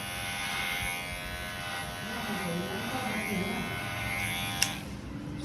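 An electric hair clipper buzzing steadily through hair during a haircut, a close, continuous motorized hum with slight pitch wavers and a brief click near the end.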